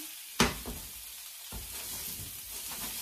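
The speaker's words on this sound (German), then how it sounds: "Ich brate sie mal super gerne scharf an" Zucchini slices sizzling hard in a hot frying pan, tossed once with a sharp clatter, then a steady crackling fry continuing close by with no talk.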